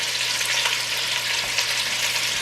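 Chicken braising in a pan, a steady, continuous sizzle and crackle of frying with faint stirring, close and fairly loud, with no talking.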